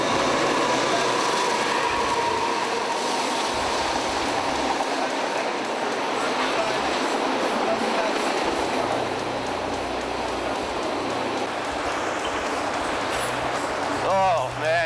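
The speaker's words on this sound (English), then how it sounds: "Right now, this is one of the few trains." A train rumbles past close by at Union Station, a loud steady roar of rolling cars and rail noise with people talking faintly over it.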